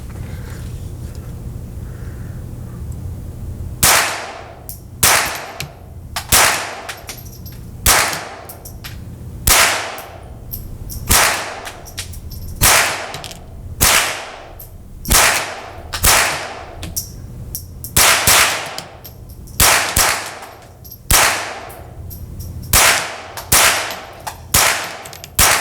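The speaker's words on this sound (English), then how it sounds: "Here we go, 25 more rounds with the Ruger 1022 and the X-22 Backpacker stock." Sharp, loud rifle shots from a Ruger 10/22 takedown fitted with a Magpul X-22 Backpacker stock, fired one after another in a steady string of about twenty rounds after a few quiet seconds, each crack ringing out with brief echo.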